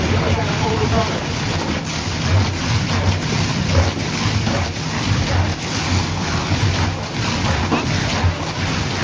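A fire hose sprays water in a steady, loud rushing hiss onto a burning demonstration at a fire department open house, continuous throughout with wind noise and a voice talking underneath.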